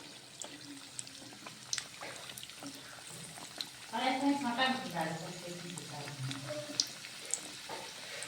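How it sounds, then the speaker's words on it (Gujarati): Soft crackling and sizzling of samosas deep frying in hot oil, with scattered pops; a voice speaks briefly over it midway. "તેલ ગરમ થઈ ગયું છે, આપણે એમાં સમોસા એડ કરી દઈશું। સમોસાને તળી લઈશું"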